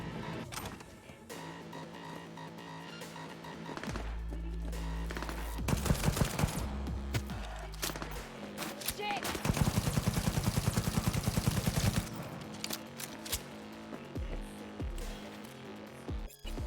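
Dense gunfire bursts and rapid automatic fire in a very hard Cyberpunk 2077 fight, with heavy low-end blasts and chattering volleys layered over game music.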